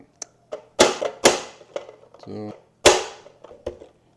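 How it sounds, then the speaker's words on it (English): A 50 millimeter cutting blade presses through cooked yams, giving sharp, close chopping clacks in an irregular series with brief pauses between cuts. "We have our 50 millimeter blade. We're going to set them here and cut them."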